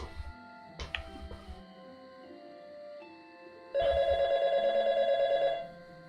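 A telephone rings in the video game YIIK, a bright electronic trill repeating steadily for about two seconds after quieter background game sounds and a few soft thumps.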